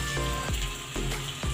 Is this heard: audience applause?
no